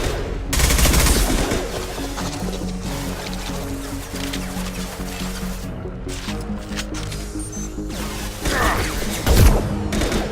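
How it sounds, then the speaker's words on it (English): A high-impact gunshot from the Mass Effect 2 defense-tower fight on Horizon: a loud booming blast near the start and another near the end, with steady heavy combat noise and a low hum between them. "Firing a high-impact shot."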